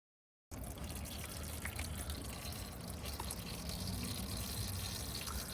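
Transmission fluid from a 6R80 transmission drains into a drip pan as a faint, steady, continuous pouring trickle that starts after a brief silence and runs unbroken to the end.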